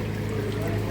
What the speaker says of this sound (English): Make sure a lot of the water drops off,